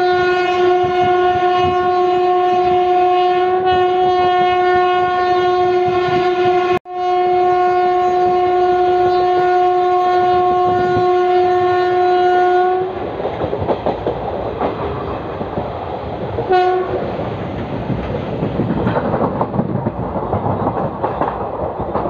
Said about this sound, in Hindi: इसने यहाँ से खींचना स्टार्ट किया है क्योंकि गाड़ी ऑलरेडी लेट हो गई बहुत ज़्यादा।